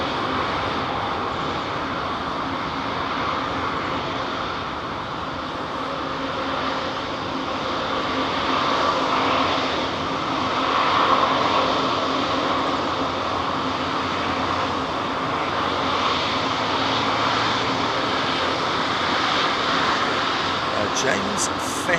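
An Airbus A350 airliner takes off at London Heathrow Airport, a loud, close, broadband jet roar that holds steady and swells slightly midway through the run.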